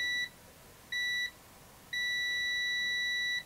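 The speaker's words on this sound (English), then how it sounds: "It's probably the same beeper in them." AstroAI true-RMS multimeter continuity beeper giving three clean, high-pitched electronic tones, two short beeps followed by a longer sustained one, close and clear over a quiet background.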